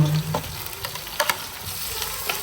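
Onion frying in a pan with ginger and garlic paste added, a close, crackling sizzle with scattered utensil clicks and stirring scrapes, a bit louder at the very start.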